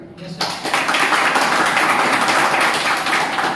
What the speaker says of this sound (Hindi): तो उनके लिए ताली मारिए आप।